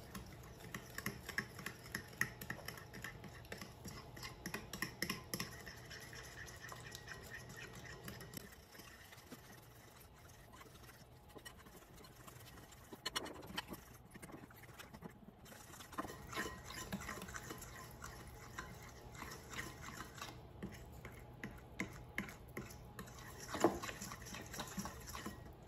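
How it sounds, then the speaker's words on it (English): Honey cake batter is stirred together in a bowl, giving a quiet, rapid run of soft clicking and scraping strokes with a brief pause partway through. "now I will mix everything together"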